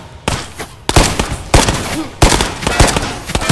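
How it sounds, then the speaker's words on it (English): An enemy fires on the player in the Ghosts of Tabor shooter game: loud, close bursts of gunfire with sharp cracks, about four volleys in quick succession over a few seconds. "He's still shooting me."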